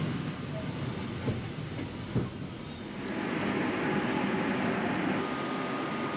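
A PKP InterCity train runs on rails between Vilnius and Warsaw, giving a steady, loud rumble with faint wheel squeal and a few soft knocks throughout.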